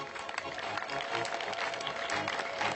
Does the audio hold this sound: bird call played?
no